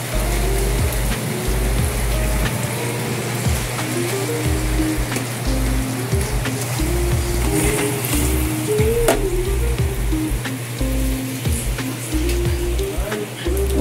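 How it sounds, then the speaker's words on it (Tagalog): Steady rain pattering on a house roof, a dense continuous hiss that holds evenly throughout, with a low constant hum and faint tonal noises in the background. "Ulan na naman ang bubong sa bahay."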